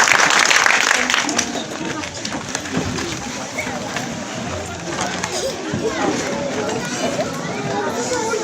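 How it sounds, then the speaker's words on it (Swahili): Applause and clapping from a church congregation right after a closing prayer, a broad, steady patter that fills the room, with crowd voices mixed in. "Makofi kwa maombi."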